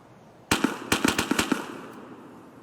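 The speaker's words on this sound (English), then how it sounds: "So some of you might have freaked out over those gunshots." A rapid burst of about eight sharp gunshots in the video game Escape from Tarkov rings out in quick succession, loud and close, then fades with a short echo.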